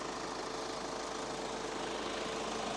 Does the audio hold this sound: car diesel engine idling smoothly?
yes